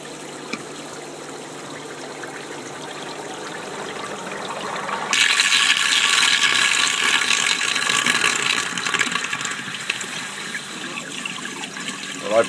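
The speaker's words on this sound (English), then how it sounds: "just slightly over 15 seconds for the main body of water to actually go down the 2-inch pipe" A body of water drains down a 2-inch pipe: a quiet mechanical background, then an abrupt loud gurgling rush starts partway through and keeps pouring steadily to the end.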